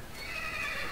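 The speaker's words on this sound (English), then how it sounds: "How you doing, horse?" A horse in the Minecraft video game gives a single short whinny, heard clearly and alone.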